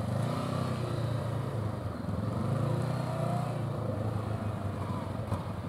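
A motorcycle engine drones and revs continuously at close range, with a rough low rumble throughout.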